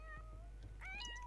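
A cat meows in The Sims 4: one short, bright mewing call rises near the end of the clip. It sits over a steady low hum and game background, with nobody speaking.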